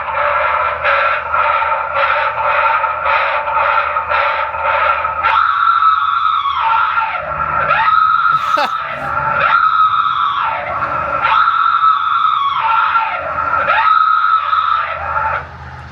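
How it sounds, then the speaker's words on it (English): A shrill, wavering synthetic scream from an old animatronic woman in a magician's sawing act rises and falls in repeated bursts, preceded by a rapid pulsing mechanical tone. "She just screamed because she was being murdered."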